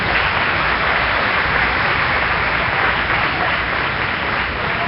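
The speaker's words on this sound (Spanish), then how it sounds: "Un aplauso al Señor, seguro que sí." A church congregation applauds, a steady dense wash of many hands clapping together without pause, loud and sustained throughout.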